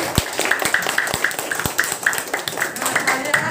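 A classroom of primary school pupils clapping hands together in a steady rhythmic beat of sharp claps, fairly close, with a voice calling over the top.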